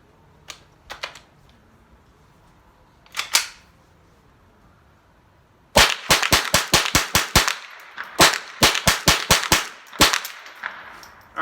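A Ruger 10/22 M1 Carbine rifle fires Blazer rounds at a range: a few spaced single shots, then rapid strings of sharp, loud cracks in quick bursts with brief pauses between them, with no talk.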